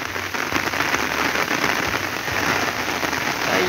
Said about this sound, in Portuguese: Chuva com vento.